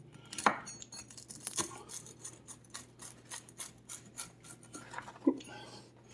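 Crisp crunching as a knife cuts through a crispy green tomato pizza crust, a few sharp crackles spaced out over several seconds, fairly quiet and close.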